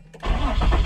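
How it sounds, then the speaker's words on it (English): The engine of an Infiniti G35 that has electrical faults cranks briefly and catches, settling into a loud, close, rumbling idle, with no talking. "So we're gonna go ahead and turn the vehicle on and see if we can show you guys some features."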